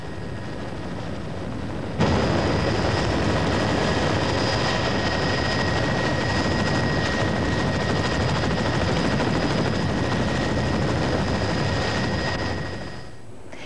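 A steady, loud helicopter roar with a droning whine holds for most of the stretch, fading slightly at the end, during a 1993 mudslide rescue at Quebrada de Macul, Chile.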